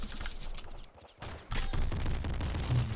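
Explosions from the game Nuclear Throne go off in rapid, crackling bursts like gunfire, with a brief dip in the middle before another dense barrage.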